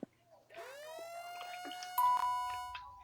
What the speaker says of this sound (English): if you do hear that sound, that usually sounds like a tornado siren, do not panic